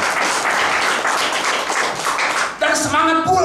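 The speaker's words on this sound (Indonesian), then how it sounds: "Boleh berikan tepukan tangan yang meriah." Lively applause from a church congregation for the worship musicians, dense and sustained clapping for a few seconds before a voice and tonal sounds take over at the end.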